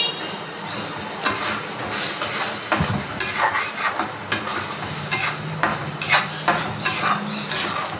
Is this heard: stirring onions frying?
yes